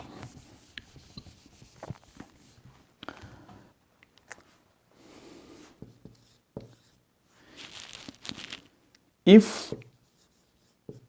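A pen scratches on paper as examples are written out by hand during an English grammar lesson, brief rubbing strokes spread between stretches of a person speaking, ending in one louder scrape.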